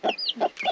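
Young roosters and chickens give a few short, close clucks in quick succession.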